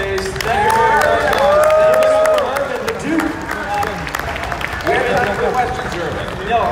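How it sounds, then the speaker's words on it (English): A convention audience at a Hasbro reveal panel at MCM London Comic Con applauds, a loud burst of clapping and cheering that thins into scattered claps, with voices and crowd chatter running through it. "A round of applause, please"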